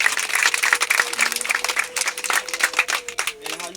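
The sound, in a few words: applause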